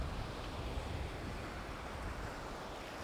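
Ocean surf and wind roar together at sea, a steady broadband wash with wind buffeting the microphone, loud and continuous with no voices.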